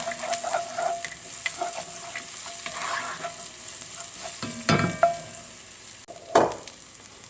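Goat biryani ingredients fry in a pan with a steady close sizzle, broken by stirring scrapes and utensil clinks and a couple of louder bursts near the end.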